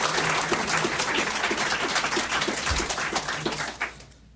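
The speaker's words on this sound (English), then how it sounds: "That's great, polite applause, as I usually say." A crowd at an opening ceremony gives a short burst of polite applause, steady dense clapping that fades out toward the end.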